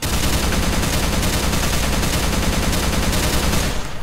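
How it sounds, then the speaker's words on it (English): A big gun in modded Minecraft fires in a dense, continuous rapid stream, loud and unbroken for about four seconds before cutting off abruptly. "Time to get the big gun out."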